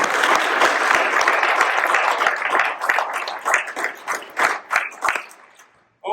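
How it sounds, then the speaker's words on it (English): An audience applauds at a lecture on dispensationalism, steady clapping that thins into scattered claps and fades to silence just before a voice begins at the very end. "Now, please give a round of applause for our."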